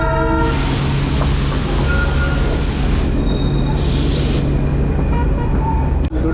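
The Darjeeling toy train, locomotive 52545 on the Gayabari jungle ride, rolls along the rails with a loud, continuous rumble and clatter, and a brief horn tone sounds near the start.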